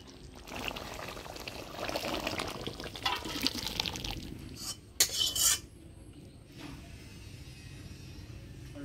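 Ghee is poured into a pot of alur dom, a liquid pour and sizzle building over several seconds, then a brief louder burst before settling into a quieter low simmer.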